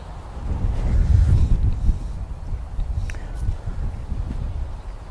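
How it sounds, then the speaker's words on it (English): Wind sweeps across an open golf course and buffets the microphone. A steady low roar swells loudest early on, then keeps blustering without a break. "the wind here is across and into us"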